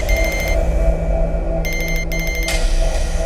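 A telephone rings in short, high electronic trilling bursts, heard at the start and again louder near the end, over a dense low rumbling background.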